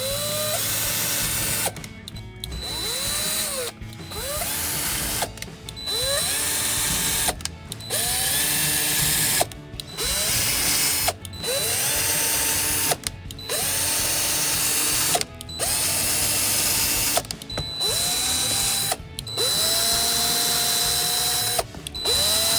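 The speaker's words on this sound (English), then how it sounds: "I'm gonna go ahead and drill pilot holes for each one." Power drill boring pilot holes into a front splitter lip on a 2018-2023 Mustang GT, about ten repeated loud bursts with the motor whining up to speed and stopping, separated by short pauses.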